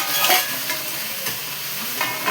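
Mutton frying in hot oil while being stirred, giving a steady close sizzle with a few scraping stirs, no voices.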